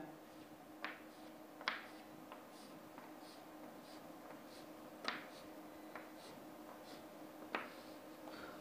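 A pencil draws a dashed chain line on paper during an engineering graphics drawing session, giving faint, scattered ticks and short scratchy strokes over a low room hum, with no talking.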